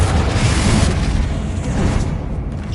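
Loud, dense blast of the Confringo explosion spell in Hogwarts Legacy, a sustained booming burst with broadband rumble that rolls on for a few seconds and slowly thins out.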